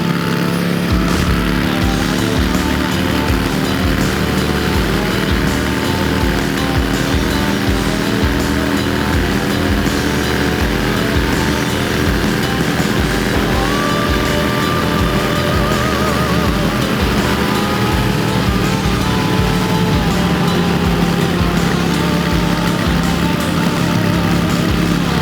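A Harley-Davidson Iron 883 motorcycle drones steadily at highway speed, its engine loud and constant under heavy rushing wind for the whole stretch, with no pauses or voices.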